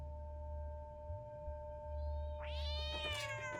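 A cat in the video game Stray lets out a loud, rising, drawn-out meow near the end, after steady electronic tones and a low hum from the game's soundtrack.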